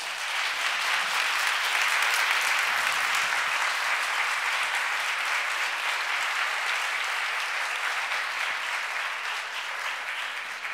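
A loud, dense round of clapping from a live audience at a talk, a steady, even roar that carries without a break for about ten seconds and eases off only slightly at the end.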